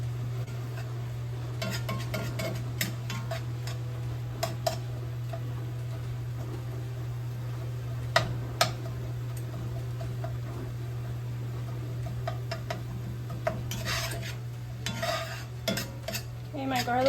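Garlic being stirred in a pan with red pepper flakes and an all-purpose rub in a farm kitchen, light scraping and tapping of a utensil against the pan over a faint sizzle and a steady hum.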